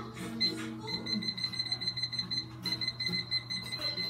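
Kitchen timer being set to 40 minutes while baking a homemade egg pie, a series of short high electronic beeps and ticks in quick irregular bursts, heard up close.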